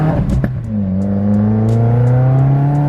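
A 2020 Subaru WRX with a new cat-back exhaust idles and revs, a steady low rumble that climbs slightly in pitch, close and loud, with a few brief clicks early on and no talking.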